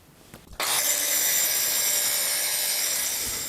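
An angle grinder bites into a metal exhaust pipe for a custom muffler build, kicking in abruptly after faint handling noise and holding a loud, steady, high-pitched cutting whine close by, without talk.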